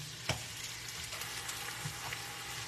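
Neck bones sear in a pan of hot oil and butter, a steady, moderately faint sizzle and crackle with a few soft pops, with no voices.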